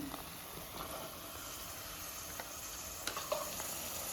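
Green beans tipped into a hot oiled pan for vegetable pulao, giving a steady close sizzle with a few soft scraping stirs and no talk.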